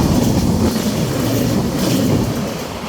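The Madhumati Express, an intercity train bound for Rajshahi, passes Faridpur College at good speed in the rain with a loud, continuous rumble of wheels and cars close by that eases slightly toward the end.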